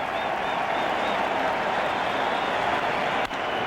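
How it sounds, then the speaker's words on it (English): A baseball stadium crowd at a 2001 NLCS playoff game, Atlanta at Arizona, cheers and claps in a steady, loud roar as the count reaches 0-2, with one brief dip near the end. "Crowd tries to crank it up on 0-2."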